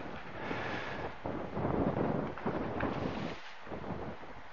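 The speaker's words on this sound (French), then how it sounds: "Il y a du vent, un petit peu." Steady, full wind rushes and buffets past a sailboat moving at about six to nine knots through the doldrums, with gusts swelling and easing and no talking.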